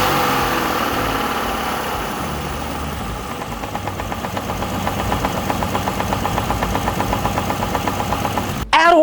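An engine rumbles into a steady idle, a rhythmic mechanical knocking running throughout, close and fairly loud, ending with a sharp clunk.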